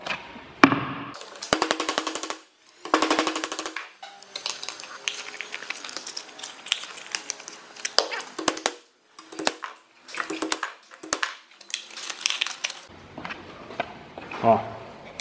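Sharp metallic taps of a hammer striking metal to straighten two ends on Volkswagen Brasília headlight parts, scattered in bursts amid clattering tool handling.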